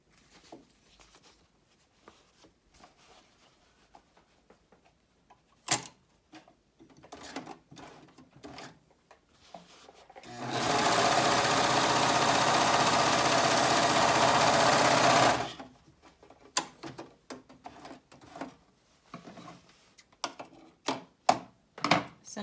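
Sewing machine stitching a seam on a fabric face mask, a steady loud five-second run of fast mechanical whirring, with quiet handling clicks and rustles before and after.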